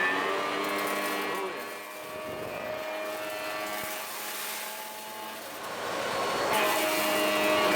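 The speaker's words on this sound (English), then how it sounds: "we're gonna use the vacuum directly without the little tube." Bissell 9595A CleanView OnePass upright vacuum cleaner running close by, a loud continuous whirring roar that dips briefly and swells back up, used directly without the hose attachment.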